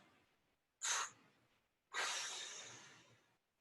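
A soft, close breath is heard during a chair yoga session: a short sharp puff, then a longer steady exhale trailing off, in a quiet room with no talk.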